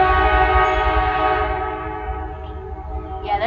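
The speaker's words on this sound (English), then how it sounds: "yeah, you can hear the ding, ding, ding of the train. Yeah, you can hear the rumble of the train." A passing train gives a loud tonal horn-like ringing over a low rumble that gradually fades, with a brief higher chirp near the end.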